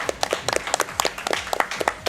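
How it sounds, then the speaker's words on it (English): Scattered clapping from a small group at a speedrunning event, sharp uneven claps close by and fairly loud for a couple of seconds. "That deserves a clap."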